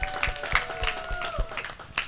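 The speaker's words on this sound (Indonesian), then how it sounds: "Tepuk tangan buat DTPLC Indonesia." Audience clapping at an anniversary gathering of an Indonesian fan club, scattered moderate applause with rhythmic claps over a low background hum and steady tones.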